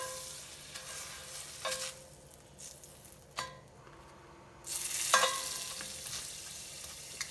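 Butter melts in a pan for grilled cheese, a soft sizzle that rises and falls as the pan is moved, with a few faint clinks and a louder burst of frying near the end.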